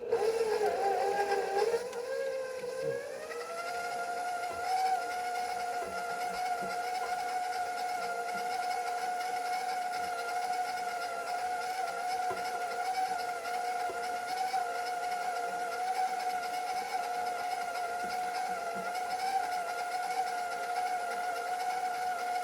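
Electric mixer runs steadily while mixing pie crust dough with butter pieces, a continuous close motor whine that rises in pitch as it spins up and then holds level for about twenty seconds, with no talking.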